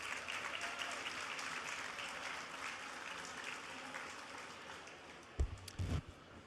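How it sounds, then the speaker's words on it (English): A convention awards gala audience applauds the new CCAP members with steady, evenly sustained clapping filling the hall, and a few louder thumps near the end. "Let's again give a round of applause to our CCAP, our newly CCAP members."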